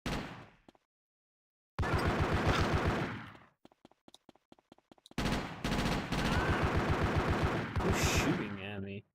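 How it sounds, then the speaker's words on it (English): Gunfire rattles in GTA: Chinatown Wars, with dense bursts of rapid automatic shots broken by a brief silence and a string of separate single cracks, then more sustained loud volleys close by. "Who's shooting at me?"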